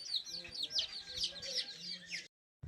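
A hen roaming a Punjabi family's yard in Pakistan clucks faintly in quick, chirpy bursts, with a murmur of background noise and some low voices.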